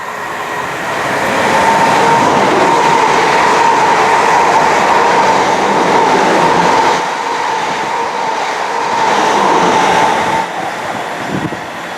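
A South Western Railway train rolls through a station on the line near Bournemouth, a loud, close, sustained rumble of wheels on rails with a steady tonal whine and slight rises and dips.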